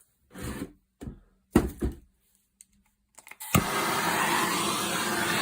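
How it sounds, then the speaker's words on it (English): A steady, loud roaring hiss of a MAP gas blowtorch flame begins abruptly after a few short clatters and thumps, then continues without pause. "Good old map gas blowtorch."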